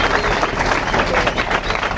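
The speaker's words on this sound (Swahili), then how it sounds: "tupigieni makofi mazuri" A church congregation in Githurai claps for its new leaders in a thick, unbroken wash of applause that stays loud and even throughout.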